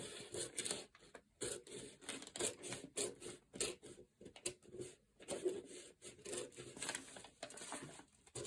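Scissors snip and slide through fabric while cutting a corset back yoke, a quiet, close, irregular run of crisp cuts and rustling.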